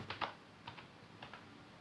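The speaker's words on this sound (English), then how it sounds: "press enter button from your keyboard" Keys on a computer keyboard are tapped in short pairs at a relaxed pace, quiet close clicks over soft room hum with no talk.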